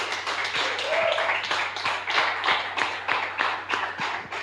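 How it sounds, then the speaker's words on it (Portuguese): A church congregation gives rhythmic applause during a Methodist worship service, steady repeated claps at a brisk even pace, fairly close and loud, with no speech over them. "eu gostaria que vocês dessem uma salva de palmas para Jesus nessa hora"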